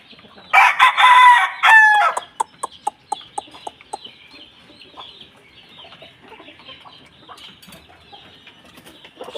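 Young roosters, stags about four months old, crow loudly and close by in two long calls, followed by a run of short sharp clucks and calls that trail off into quieter farmyard noise.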